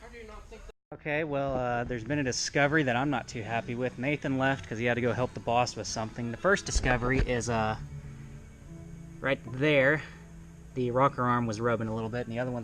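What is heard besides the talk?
No distinct noise like a dog, phone or traffic.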